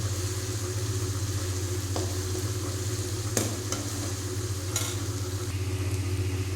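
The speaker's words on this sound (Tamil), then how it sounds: "முருகில் புரிகிற மாதிரி பொரிய விட்டுருவோம்" Onions fry in oil for a brain fry, giving a steady close sizzle and hiss over a constant low burner hum, with a few sharp spoon or pan clicks scattered through.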